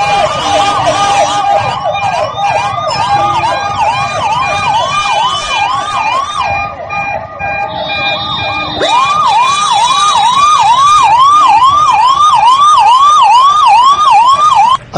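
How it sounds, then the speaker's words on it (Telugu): A wailing ambulance siren on a road, loud and close, rising and falling in rapid repeated sweeps throughout, with a brief shift in tone midway and traffic rumble underneath. "ఒక ప్రత్యేక పద్ధతిలో హార్న్ కొట్టుకుంటూ వెళ్ళేటువంటి అంబులెన్స్లలో మీకు ఎలాంటి సైన్స్ కనిపించడం లేదా?"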